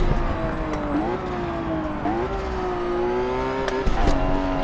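Race car engine in Forza Motorsport 7 revving as it drives, pitch climbing and dropping with gear shifts, plus brief tire squeal, loud and steady.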